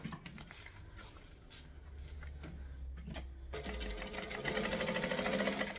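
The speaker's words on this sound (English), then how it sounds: "So I am literally going to top stitch it down so it stays flat." A sewing machine runs a steady, rapid top stitch along a vinyl seam, starting with short bursts and then settling into a louder continuous whirring run close by.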